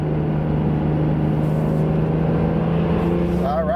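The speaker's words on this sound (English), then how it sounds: "Even though we're going to accelerate onto the highway" A BMW E46 M3 accelerating onto a highway, heard from inside as a loud, steady engine drone with a constant low hum and road roar.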